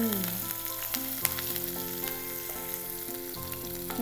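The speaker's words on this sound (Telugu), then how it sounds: "నూనె వేడయ్యాక ఉల్లిపాయ ముక్కలు వేయాలి, కరివేపాకు, మిరియాలు దంచినవి, రెడ్ చిల్లీ క్రష్ చేసింది, కొద్దిగా గరం మసాలా" Sliced onions fry in hot oil with curry leaves, crushed pepper, crushed red chilli, garam masala and a little turmeric, giving a steady close sizzle with faint clinks under it and no talking.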